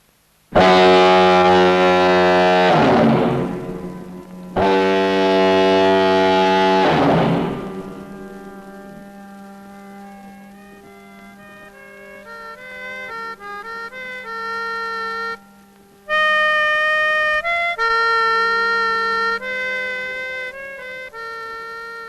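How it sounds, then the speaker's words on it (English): A lighthouse fog signal blasts in long, very loud horn tones, two sustained blows with a pause between, then quieter ringing tones carrying on alone. "the fog signal is extremely loud"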